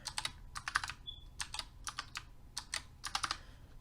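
Quiet typing on a computer keyboard, irregular bursts of soft key clicks close up with short pauses between runs, no talking.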